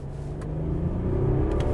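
A 2021 Mercedes-Benz E400d diesel E-Class accelerates from inside the cabin, its engine rumbling and rising steadily through a gear change, with a couple of faint clicks and no talking.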